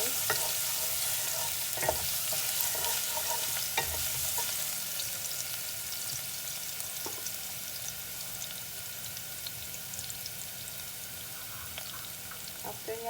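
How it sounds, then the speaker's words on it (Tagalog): Garlic fries in a pan with a continuous bright sizzle, punctuated by occasional stirring clicks and scrapes; close and steady throughout. "Then, pwede na natin i-fry yung ating garlic."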